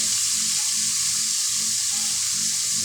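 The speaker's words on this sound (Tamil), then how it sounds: "தக்காளி போட்டுருக்கிறேன். தக்காளி வதங்கட்டும்." Tomatoes sauté in a pan with a loud, constant hissing sizzle that holds steady throughout, close to the pan and with no speech or other sounds.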